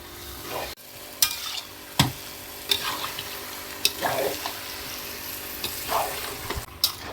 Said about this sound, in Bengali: মাংসটা আস্তে আস্তে নিবন্ত গ্যাসেই করছি মাঝে মাঝে একটু নেড়ে দিতে হবে